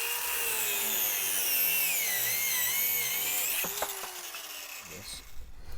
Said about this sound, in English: And grind it down here.